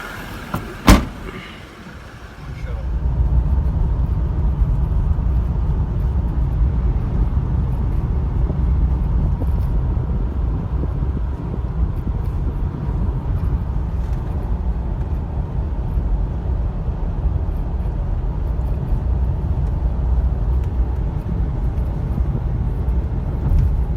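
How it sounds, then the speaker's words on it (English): A 2019 Toyota Fortuner SUV drives on a tarmac road, giving a steady low road and engine rumble from inside the cabin after a brief click at the start, with no talk. "On the road, on tarmac, car feels alright at these speeds."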